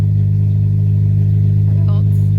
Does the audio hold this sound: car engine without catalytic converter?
yes